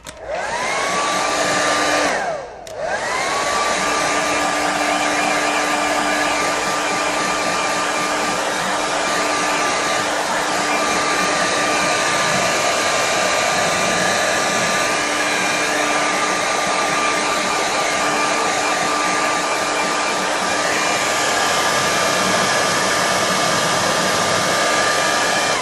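A hair dryer runs steadily over a watercolour painting, loud and close with a constant whining blow that dips briefly near the start before continuing unbroken to the end.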